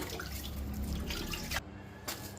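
Tap water running and splashing in a sink while a child washes dishes, a steady close trickle that cuts out briefly near the end and then resumes.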